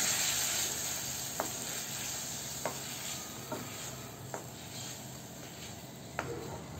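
Steady sizzling of paneer frying in hot oil in a kadhai, a constant hiss with a few sharp pops and ticks scattered throughout.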